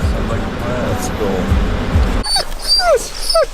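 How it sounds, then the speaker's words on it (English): A dog on a Utah rifle deer hunt whimpers in a few short, high, rising whines near the end, after a stretch of rumbling vehicle noise, with people talking nearby. "She's a whimpering maniac,"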